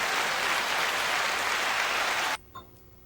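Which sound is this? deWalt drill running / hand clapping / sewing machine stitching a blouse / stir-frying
hand clapping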